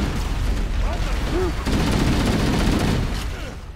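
Gunfire in Halo's Pillar of Autumn level, heard as dense loud bursts of shots with booming impacts and some sweeping tones, mixed with voices.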